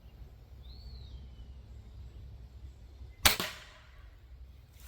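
An Apolo .25 caliber airgun fires a 33 grain slug outdoors, one sharp crack with a short decaying tail, set against quiet low ambient rumble and a faint bird call earlier.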